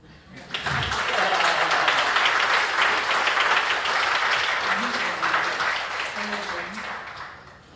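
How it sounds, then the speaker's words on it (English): Loud, sustained applause from a conference audience at a demo of a voice assistant, dense clapping that fills the room for several seconds and slowly tapers. "Is that not worth a clap?"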